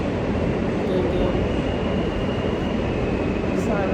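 Train rumble and rolling rail noise at a Philadelphia station, a steady broadband roar holding level across the whole stretch, with people talking over it.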